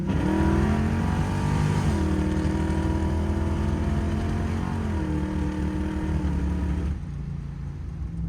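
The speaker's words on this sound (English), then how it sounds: "Now it's time to lean on this thing and make sure that the engine's going to run okay" A third-generation Chevrolet Camaro race car's engine drones loud and steady under acceleration, the pitch climbing and dropping through gear changes before easing off near the end.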